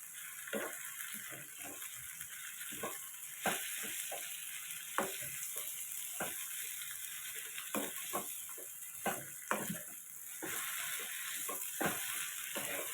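Grated raw mango frying in oil for a pickle, a steady close sizzle punctuated by repeated sharp stirring clicks and scrapes throughout, with no talking.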